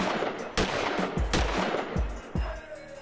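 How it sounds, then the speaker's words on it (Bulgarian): Gunfire at a university faculty, with four or five loud, sharp shots spaced unevenly over a few seconds against a noisy background, each with a short booming tail. "Започва стрелба."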